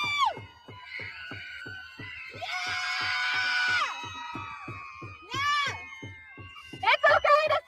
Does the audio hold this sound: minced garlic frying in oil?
no